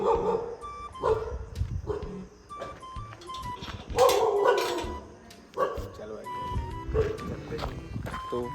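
Several dogs bark repeatedly in short, irregular bursts at night, some near and some farther off, with people talking intermittently among the barks.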